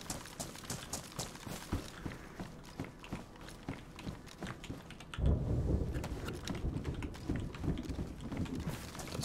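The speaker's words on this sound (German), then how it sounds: "Das war wohl ein Donner, oder?" Thunder in the DayZ video game, a low rolling rumble that swells about halfway through and lingers over a constant hiss of rain and light background clicks.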